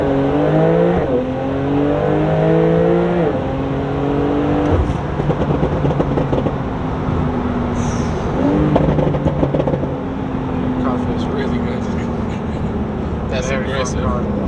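A 2021 Porsche 992 Turbo S launches and accelerates hard, its engine rising through several gear changes in stepped pitch sweeps, loud and close with wind noise, and voices talk over it.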